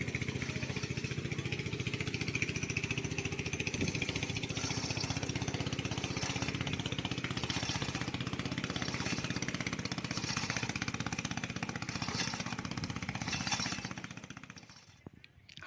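A river ferry's diesel engine rumbles and chugs steadily at close range from inside the engine room, a continuous loud mechanical drone that cuts off near the end.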